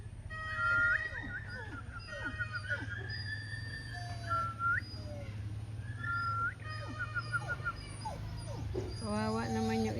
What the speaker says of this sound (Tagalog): Oh, puppies.